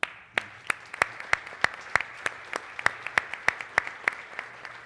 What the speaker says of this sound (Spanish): a los cuales les pido un aplauso.